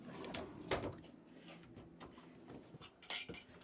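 A bunk drawer aboard a liveaboard trawler slides and knocks shut nearby, several soft wooden thumps and scrapes with light clatter in a quiet cabin.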